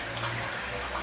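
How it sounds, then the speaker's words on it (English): Warm tap water runs steadily during a wet shave rinse, a continuous close splashing hiss of running water over the face or sink that lasts the whole second with no talking. "just rinse that off. A bit of warm water."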